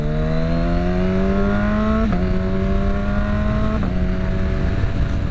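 A Kawasaki H2 motorcycle engine hums under light throttle, its tone rising steadily through three gear changes with brief dips at each shift, close and continuous over wind noise, with no talking.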